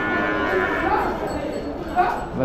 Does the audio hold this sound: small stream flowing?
no